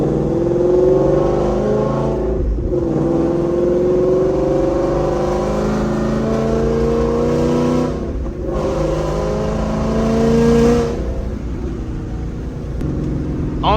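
Idling engine of a Gen 2 Jeep CJ 5.0 with an extremely loud exhaust warming up at night, a deep steady rumble with brief dips and swells in revs, close and continuous.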